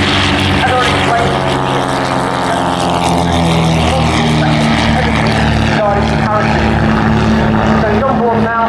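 A propeller aircraft carrying a parachute display team at the Dunsfold Wings & Wheels 2015 airshow drones loudly and steadily, while an announcer talks over it.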